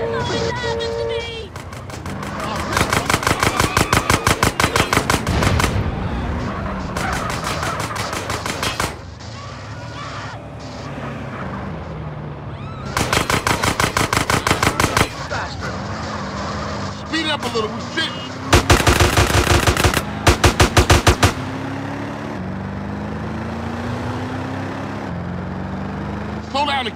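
Gunfire in the video game GTA San Andreas, long bursts of rapid automatic shots repeating over a steady engine drone, loud and close.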